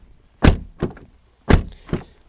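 Two pairs of heavy thuds sound close by, the trunk lid of a BMW E60 520d being shut firmly, with short pauses between.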